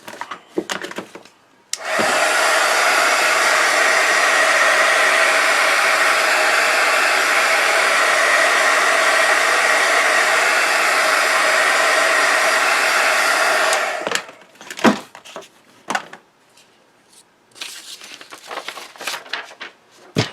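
A heat tool blasts hot air to set Distress Oxide ink on paper crafting work, a loud steady whooshing drone for about twelve seconds, cutting off abruptly, followed by quieter handling clatter.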